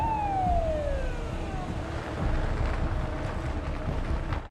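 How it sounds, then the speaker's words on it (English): A police car siren wails in falling, sweeping tones over a steady rumble of road or engine noise, loud and continuous throughout. "a police car appears behind them, flashing its lights and signaling for them to pull over"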